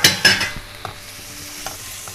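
Tomatoes for pav bhaji are stirred in a pan, a couple of quick scraping strokes up close followed by a softer, low sizzle with small clicks.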